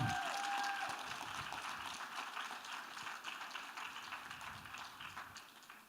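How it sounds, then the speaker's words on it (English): Faint, distant audience applause for a guest speaker at an MLK gala and awards banquet, a soft steady patter of many hands that slowly fades, with a brief tonal note at the start. "Let us give a round of applause to our special guest speaker, Lieutenant General Honore"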